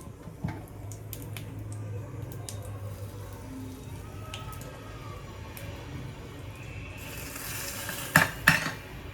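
Mustard seeds and cumin crackle and sizzle in hot oil for a tadka in a home kitchen. The low, steady frying hiss carries faint utensil clinks and ends with a couple of louder metallic knocks.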